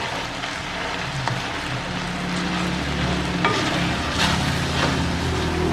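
Food sautéed with salt and pepper in a pan gives a steady, fairly loud sizzle with stirring scrapes throughout, over a low background hum and no talk.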